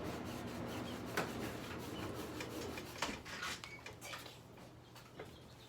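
A paint brush scrubbing liquid white onto a canvas in short crisscross back-and-forth strokes, producing a soft, close, rhythmic rasping with no talking.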